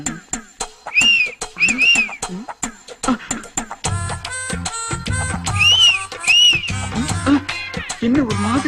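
Shrill whistling in a Tamil comedy scene, short rising and falling whistle notes that come in pairs, loud and close, mixed with bursts of voices and other noises.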